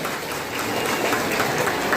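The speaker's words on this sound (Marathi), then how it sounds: "तर सगळ्यांनी ह्या ग्रामपंचायतीसाठी जोरदार टाळ्या वाजवायच्या." Loud clapping from an audience of women at a village council women's gathering and haldi-kumkum celebration in Rahnal, a dense, steady wash of hand claps lasting throughout with no voices.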